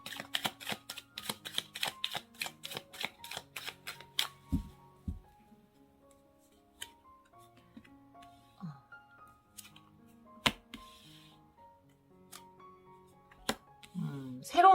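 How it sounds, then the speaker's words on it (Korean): Tarot cards shuffled and drawn by hand in a quiet room, a run of quick crisp flicks at first, then sparse soft slaps and taps as cards are laid down, with brief quiet speech. "여러분을 위한 힌트 카드 한번 뽑아보도록 할게요"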